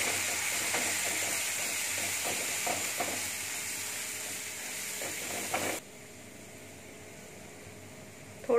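A paste of ginger, coconut and garlic sautés in oil in a kadhai, giving a steady close sizzle with faint stirring scrapes that drops to a quieter hiss partway through.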